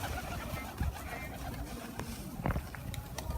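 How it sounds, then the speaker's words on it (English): Pigeons coo outside a block of flats, soft low throaty calls repeating amid faint outdoor background noise, fairly close. "Just pigeons being pigeons, doing their thing."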